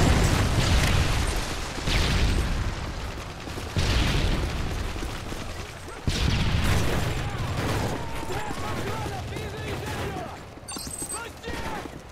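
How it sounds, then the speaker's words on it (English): A predator missile strike in Call of Duty: Modern Warfare 3 multiplayer brings several heavy booming blasts in a row amid dense gunfire and battle noise, with game voices mixed in. "Friendly predator missile inbound."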